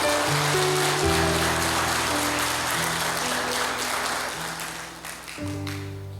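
A church congregation claps loudly and continuously with sustained organ-like chords underneath, the applause fading slightly near the end.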